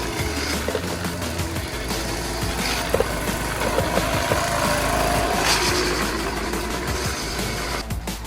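A homemade giant gas-powered blender with a manhole-cover blade, its small gas engine running away after the throttle cable broke, roars loudly and continuously close by, a steady high-revving engine drone with rattling and no voices.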